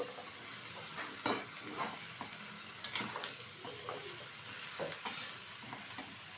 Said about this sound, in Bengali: ভালোভাবে নেড়ে চেড়ে নেব